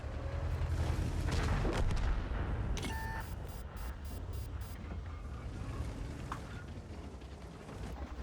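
Tank cannon fire in World of Tanks, a heavy boom early on with rumbling battle noise, followed by a string of sharp mechanical clicks and a quieter engine drone.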